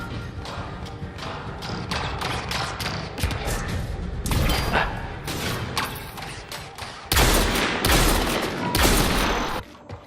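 Rapid, loud bursts of gunfire crackle through a firefight in the sci-fi shooter Mass Effect Andromeda, with dense overlapping shots, thuds and brief pauses across the clip.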